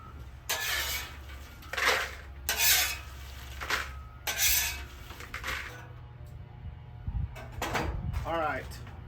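Crispy Chex Mix gets scraped and stirred on a Blackstone griddle, giving repeated loud rasping sweeps and crunchy rustles, close by, with a person talking between them.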